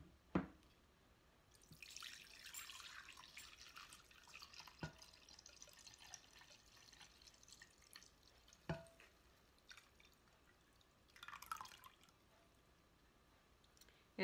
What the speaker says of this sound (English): now I'm going to pour it into this other glass measuring cup